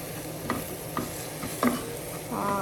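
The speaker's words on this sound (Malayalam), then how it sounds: "ഇനി നമുക്ക് നന്നായിട്ട് മിക്സ് ചെയ്ത് കൊടുക്കാം" Chilli powder masala fries in a pan for beef cutlet, a constant sizzle broken by regular scraping strokes of a spoon stirring about every half second, close and fairly loud.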